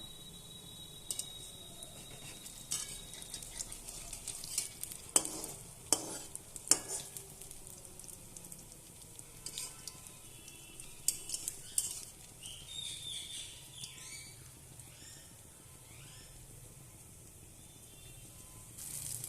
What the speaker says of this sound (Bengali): তেলের মধ্যে ডালগুলো দিয়ে দিয়েছি